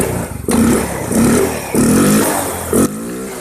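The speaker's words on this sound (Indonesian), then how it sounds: "ini kita coba untuk hidupkan dulu motornya" A Yamaha Mio M3 scooter, just back together after a CVT service, starts up and revs in several loud bursts, its engine rising and falling between throttle blips up close.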